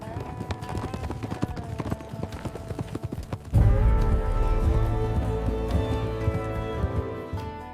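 A horse's hooves clip-clop at a steady walk along a long, hot dirt road. The hoofbeats sound fairly close, the pace is unhurried, and a dense backdrop fills out and grows louder partway through.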